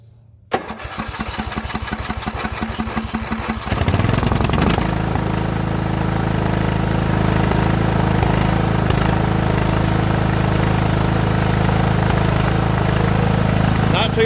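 A Craftsman lawn mower engine, idle for five years, is pulled over with a few quick cranking chugs, then catches and runs steadily with a loud, continuous drone close by.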